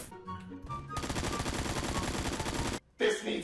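Rapid automatic gunfire from a video game gun, a steady burst of shots lasting about two seconds, loud and close, followed by a brief pause and another short sound.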